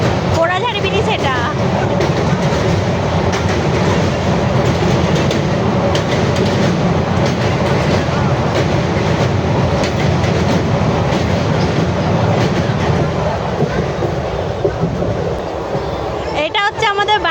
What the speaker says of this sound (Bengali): স্পিডে চলছে না ট্রেনটা